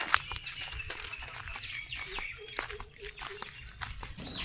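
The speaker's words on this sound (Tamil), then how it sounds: "ஓ, அதுதான் சரியான குருவி இருக்குது தானே." Sparrows chirp near a banyan tree in a sunny village setting, giving short, scattered high tweets over soft rustling and faint footsteps.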